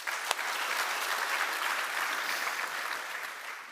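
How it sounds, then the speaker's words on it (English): Audience at an annual vitamins and minerals conference session applauding steadily, a dense even wash of clapping with no voices over it. "give them a round of applause."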